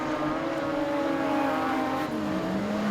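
Modified sedan race cars run down the back straight at Kingaroy Speedway, a steady engine whine shifting in pitch as they pass at a moderate distance, with no talking.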